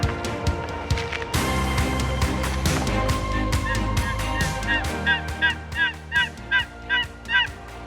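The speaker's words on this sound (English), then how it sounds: "A new morning and a new gobbler." A wild turkey gobbler calls outdoors in the morning, with a rhythmic series of sharp, honking calls that repeat about every half second and grow more regular toward the end. Other bird noises sound nearby.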